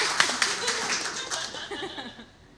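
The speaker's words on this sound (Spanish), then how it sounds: "Un aplauso para ella, por favor." A short round of clapping from a small studio audience on a comedy talk show, with a few sharp claps and some laughter mixed in, tapering off quickly.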